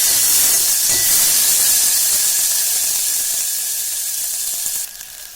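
Sprouted moth beans sauté in hot oil for misal pav, giving a loud, steady steamy hiss that eases slightly toward the end and is heard alone.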